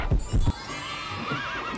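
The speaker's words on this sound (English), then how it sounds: "Wow, purple horse." A horse makes two short, sharp bursts at the start, like stamping hooves or a snort, then a thin wavering tone follows over steady background noise.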